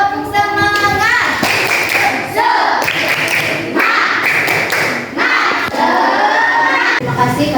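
Schoolchildren in a classroom do the tepuk semangat clapping cheer: loud, rhythmic claps and thumps mixed with excited shouting and chanting from the group, continuing without pause.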